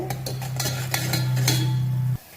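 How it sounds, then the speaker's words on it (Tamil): Thoothuvalai leaves being sautéed in a pan: a soft sizzle under clinking, scraping spatula strokes, with a steady low hum that cuts off near the end. "இதையும் சேர்த்து நல்லா வதக்கிக்கலாம்."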